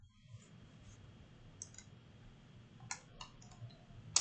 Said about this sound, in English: Okay, double click on that.